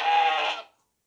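A single loud bleat from a castrated two-tooth sacrificial goat, close and sustained for about half a second before cutting to silence.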